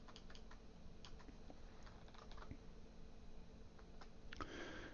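Keys tapped on a computer keyboard while editing text in GVim, a quiet, close patter of irregular keystrokes with a few quicker clusters and a brief louder clack near the end.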